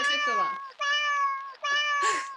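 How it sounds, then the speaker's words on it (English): A house cat meows three times in a row, each a loud, close, drawn-out tonal cry, the last rising into a harsher, strained call, with no talking. "Cat Morris."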